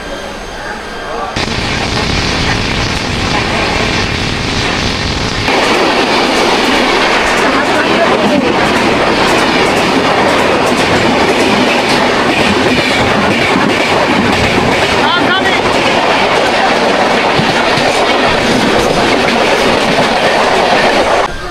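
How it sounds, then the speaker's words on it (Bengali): The Bikaner Howrah Express rolls into Howrah station, a loud, steady roar of wheels and carriages with rhythmic rail clatter running throughout, heard from on board, with occasional voices beneath. "ট্রেন ঢুকছে বিকানির হাওড়া"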